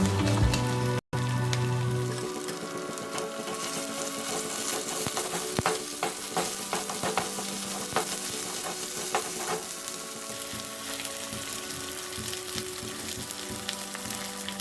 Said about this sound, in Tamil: அந்த தண்ணியும் இஞ்சி பூண்டு பச்சை வாசனை போனதே நல்லா வதக்கிக்கலாம்